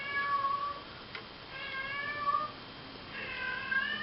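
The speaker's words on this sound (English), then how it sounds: "My cat is meowing." A house cat meows three times, with drawn-out, wavering cries spaced across a few seconds, heard fairly clearly over faint background hiss.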